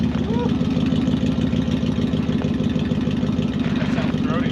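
A 32-valve car engine with its mufflers cut off and straight pipes idles loud and steady, a deep throbbing low rumble running unbroken throughout while people talk over it.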